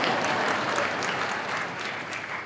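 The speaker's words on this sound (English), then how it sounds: "You don't have to clap for that." Applause from a commencement audience at Unity College, a dense, steady patter of many hands that fills the whole stretch and eases slightly toward the end, with no voices over it.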